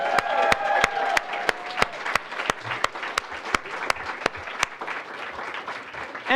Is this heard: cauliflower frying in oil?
no